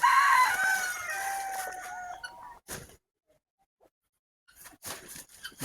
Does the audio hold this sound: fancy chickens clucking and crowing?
yes